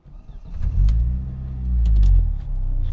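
A home-built 2.0L stroker Audi S4 running on ethanol bogs and chokes under throttle, its low engine rumble swelling unevenly and stumbling instead of pulling cleanly, heard close from the cabin.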